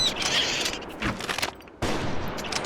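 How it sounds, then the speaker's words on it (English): Hunting rifle shots ring out in the video game Prehistoric Hunt, a few sharp reports with a mechanical creak between them, followed by a sudden loud burst near the end. "I'm surprised you guys can take more than one hunting rifle shot"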